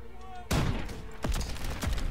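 Rapid bursts of explosive weapon fire in a video game, likely a Panzerschreck rocket launcher, with a sudden loud blast followed by further heavy shots and crackling gunfire while players talk excitedly.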